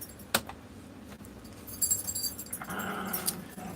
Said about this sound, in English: Hear my little dog in the back playing with my other dog.